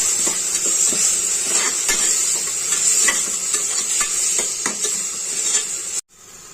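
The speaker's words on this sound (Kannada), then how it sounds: "ಆ ಮಸಾಲಾನ ಹಾಕೋಬೇಕು ಇದನ್ನು ಸಹ ನೀಟಾಗಿ ಫ್ರೈ ಮಾಡ್ಕೋಬೇಕಾಗುತ್ತೆ" A ground masala paste fries in oil in a pan with a bright, loud hiss, while a spoon stirs with steady scraping taps. Near the end the sizzle abruptly drops away.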